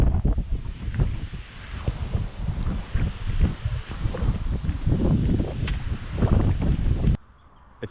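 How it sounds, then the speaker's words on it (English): Gusty wind blows hard at Lake Nillahcootie, rumbling and buffeting the microphone in uneven bursts with rustling underneath, before cutting off abruptly near the end. "It's windy, it's cold."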